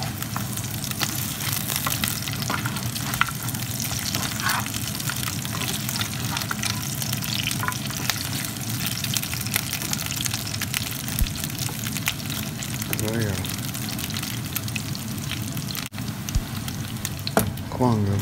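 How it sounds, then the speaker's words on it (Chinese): Pork ribs pan-frying in oil for a fermented bean curd rib dish give a close, continuous crackling sizzle, with scattered pops and faint stirring throughout and no speech. "这边的排骨就煎得差不多了"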